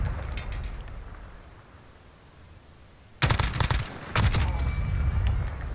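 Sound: shotgun gunfire in a Verdansk (Call of Duty Warzone) video game

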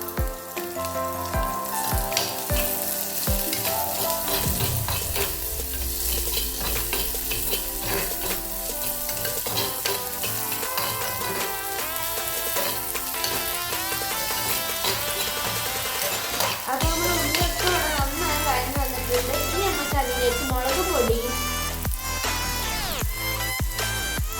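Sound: ginger, garlic, green chilli and shallots frying in hot oil

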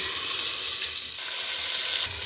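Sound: marinated chicken sizzling in hot mustard oil

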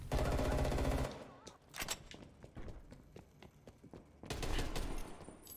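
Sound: automatic turret gunfire in a video game

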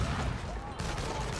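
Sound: gunfire in video game Infamous Second Son

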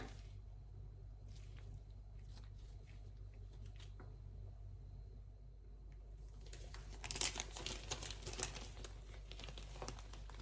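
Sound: plastic bag crinkling while packing fermented beef

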